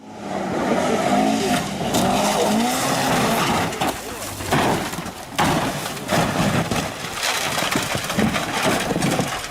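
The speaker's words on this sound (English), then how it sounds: "And Briscoe flies. Briscoe flips and flies. On the grass." Race car crash on track with engines roaring and tires skidding across grass, loud and continuous, under an excited commentator speaking throughout.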